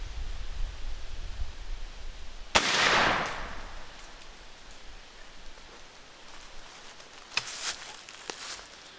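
A single-shot 20 gauge shotgun loaded with a 209 primer fires once, a sharp close blast that decays over about a second, set against steady rain-like outdoor noise and no talking.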